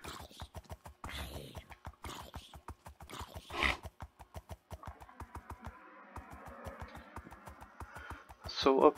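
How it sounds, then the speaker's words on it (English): Donkey braying in the Minecraft video game, a few rough braying calls over a steady rhythmic ticking pulse of game sound, mid-level and fairly close. "Hello, donkey."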